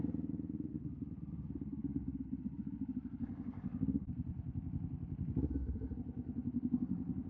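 A Kawasaki Z400 motorcycle on a solo ride, its engine a steady low rumble with throttle variations and pulsing revs, fairly quiet and close with no talking.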